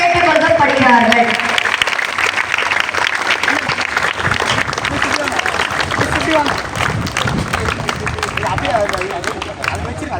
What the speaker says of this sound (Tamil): மாணவர்கள் அனைவரும் கரங்களை தட்டுமாறு அன்போடு கேட்டுக்கொள்ளப்படுகிறார்கள்.